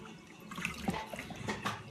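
Washcloth being dipped and wrung in a small warm bowl of water during an at-home facial, giving soft intermittent splashes and drips close by, with no talking.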